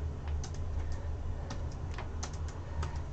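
Typing on a computer keyboard, a run of irregular light key clicks at close range over a low steady room hum, with no talking.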